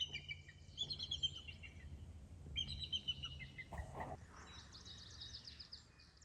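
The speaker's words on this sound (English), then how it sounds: "That's the call of a bald eagle." High, thin chirping calls of a bald eagle repeat in short bursts across a quiet outdoor trail setting, fairly faint and distant against a low background rumble, with no talking.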